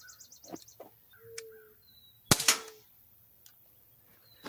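An Umarex Smith & Wesson M&P 40 .177 CO2 air pistol fires a single sharp shot mid-clip, a crisp snapping crack with a short hiss after it, while birds chirp faintly outdoors.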